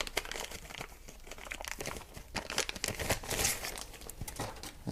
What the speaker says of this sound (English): Ships in a plastic bag.